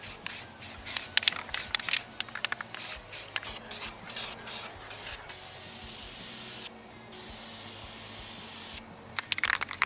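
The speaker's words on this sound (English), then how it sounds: "I'm going to throw some primer on it." Primer is sprayed from a rattle can onto a scuffed truck part, with a run of short hissing bursts and taps followed by a long continuous hiss and a few more quick sprays, close and fairly quiet, no voices.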